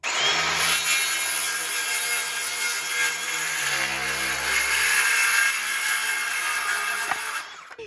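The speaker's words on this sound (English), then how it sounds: "Go with the chainsaw." Chainsaw ripping through wood to rough out a paddle blank, a loud continuous buzzing cut that holds steady for several seconds, then trails off at the end.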